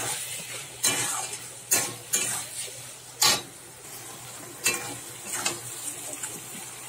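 Fried potatoes are stir-fried in a spice masala cooked until the oil separates, with a spatula scraping the pan in irregular bursts over a low, steady sizzle and no talking.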